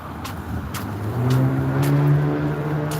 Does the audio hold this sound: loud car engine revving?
yes